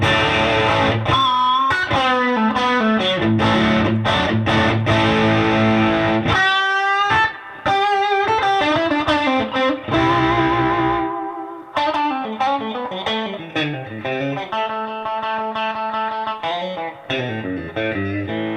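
Electric guitar with heavy distortion, played solo in quick runs, bends and sustained notes, loud and close.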